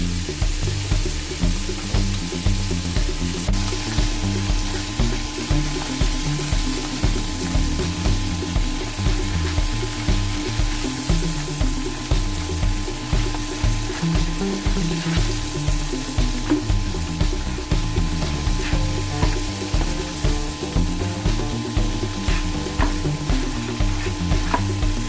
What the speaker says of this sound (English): flip them until the butter and the garlic mix well with our mantis.